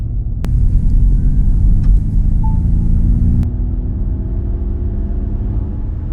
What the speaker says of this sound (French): on va faire une petite accélération juste pour voir un petit peu